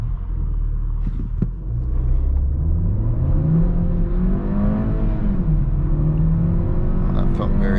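A 2021 VW T-Roc accelerating hard from a brake-torque launch, its engine droning loud and steady as the pitch climbs, dips at a gear change and climbs again, with heavy road rumble underneath.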